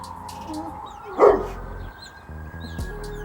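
A household dog lets out a single bark outdoors, near and fairly loud, over steady background hum with faint bird chirps around it.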